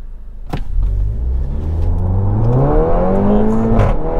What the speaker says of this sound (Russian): в этот же момент резко нажимаю на газ.